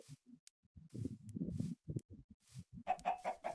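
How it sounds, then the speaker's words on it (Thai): A chicken in Minecraft clucks in short, choppy bursts across a few seconds, with a sharper, higher squawk near the end; it is fairly close and clear against silence. "กำลังฆ่าไก่อยู่"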